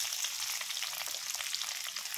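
Onions and cashews fry in oil in a kadai, a steady close sizzle with crackling texture that runs evenly throughout, with no voices.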